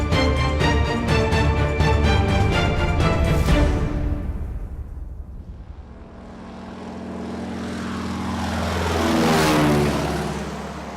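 Propeller airplane engine droning loudly and steadily, swelling and shifting in pitch as it seems to pass close by, with no talk over it.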